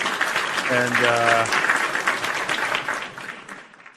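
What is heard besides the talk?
applause from live show audience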